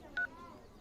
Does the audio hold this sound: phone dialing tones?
yes